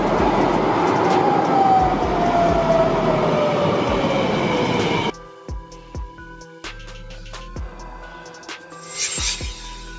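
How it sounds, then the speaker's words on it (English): A tram-train runs along rails with a steady rolling rumble and a faint whine that slowly falls in pitch. The sound then cuts to a quieter interior hum with intermittent clicks and clacks of wheels over track joints. "Tram train, a type of train that combines features of a tram and a train"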